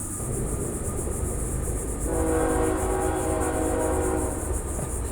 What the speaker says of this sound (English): That train comes every time there is a video rolling on that camera.